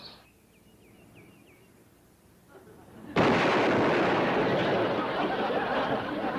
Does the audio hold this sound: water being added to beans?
no